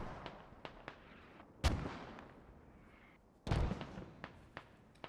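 Mortar rounds in a video game land with two heavy, booming impacts a couple of seconds apart, surrounded by fainter distant pops of gunfire.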